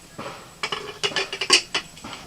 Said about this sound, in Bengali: সব রেডি হয়ে গেল এবার ঢাকনা বন্ধ করে দিচ্ছি